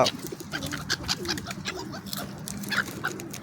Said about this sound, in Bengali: অনেক সুন্দর সুন্দর কবুতর